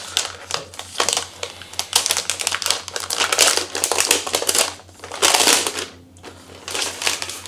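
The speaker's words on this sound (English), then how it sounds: "I just love the sound of unwrapping a laptop." Crinkly plastic wrap being unwrapped from an Asus ROG Zephyrus Duo 16 gaming laptop crackles and rustles close up, ripping and crumpling in busy bursts that pause briefly before crackling again.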